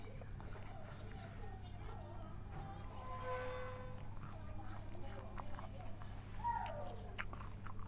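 Crunchy biting and wet chewing of koi kung, a spicy Isan salad of raw live shrimp, continuing steadily at close range beneath voices and a constant low hum.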